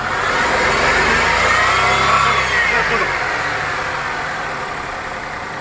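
A car engine revving hard under acceleration during an exhaust smoke check, a loud, close roar that rises and peaks before easing off into a steady lower drone, with no talking.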